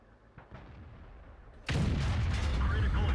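A T49 light tank's cannon firing in World of Tanks, a sudden loud blast after muffled low rumbling, then a sustained booming roar that carries to the end.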